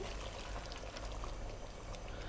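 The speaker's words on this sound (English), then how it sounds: "Now we're going to add some liquid to it. I'm going to be using some chicken stock." Chicken stock being poured into a stew pot, a soft, steady liquid pour that is faint and continuous for a couple of seconds with no talking.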